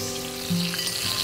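Carrots, a bay leaf and red pepper drop into a hot, sizzling pot of Sunday sauce, giving a close, steady crackle of frying that briefly jumps louder as they land and are stirred.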